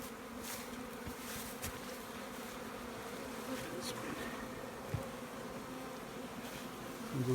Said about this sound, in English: Here's a box of bees.